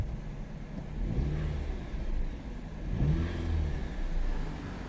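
A Jeep engine with a worn, slipping clutch rises and falls in two slow revs, a low droning hum heard fairly quietly and close, with no voices.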